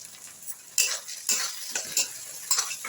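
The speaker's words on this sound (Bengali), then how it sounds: "পেঁয়াজ আর ক্যাপসিকামটা খানিকক্ষণ নাড়াচাড়া করে যেই" Onion and capsicum stir-fried in a pan for pav bhaji, with repeated bursts of spatula scraping over a light sizzle in an uneven stirring rhythm.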